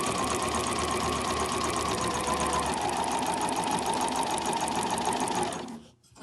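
A sewing machine stitches fabric for an overlocker cover in one continuous fast, even whirring run up close, then slows and stops at the end.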